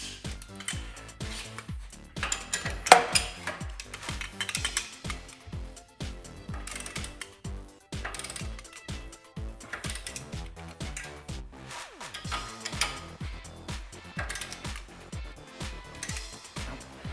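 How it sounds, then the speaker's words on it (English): A socket wrench with a 3/4 inch socket torques the steering pinch nuts on a Jeep Wrangler JL heavy-duty steering kit. A close, loud ratchet clicks in repeated rapid bursts with short pauses between strokes. "Now we're gonna go ahead and torque down two pinch nuts to 90 foot-pounds."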